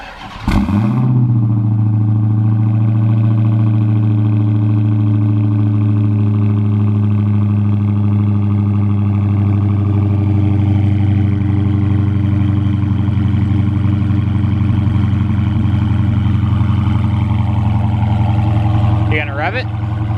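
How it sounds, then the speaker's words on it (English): Stock factory exhaust on a Dodge Charger Hellcat firing up from cold: a sharp start burst settles into a loud, steady deep idle rumble that runs nearly twenty seconds, with a small blip near the end. "Now this is factory exhaust."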